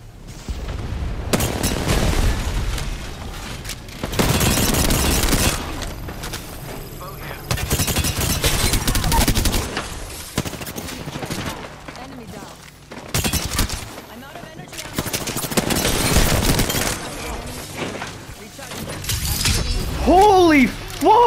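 Heavy gunfire in the battle royale shooter Apex Legends, repeated loud bursts of automatic fire and impacts in waves through a chaotic fight, with a player's voice talking over parts of it.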